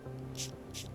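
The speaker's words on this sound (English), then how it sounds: "This is a spray bottle." A handheld plant-mister spray bottle gives two short, soft hissing spritzes about half a second apart, close by, over a low background hum.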